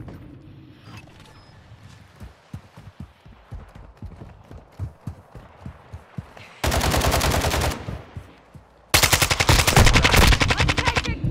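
Automatic and rifle gunfire in the Call of Duty Modern Warfare 2 video game. Quieter scattered shots come first, then two loud sustained bursts of rapid fire at close range, with brief pauses between them.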